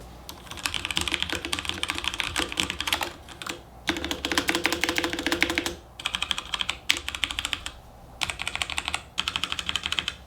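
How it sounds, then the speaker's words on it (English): Rapid clicky keystrokes on a Razer Pro Type wireless mechanical keyboard, typed in bursts separated by brief pauses, close and crisp with no voices. "Here's a quick typing test for y'all to hear what the key switches actually sound like."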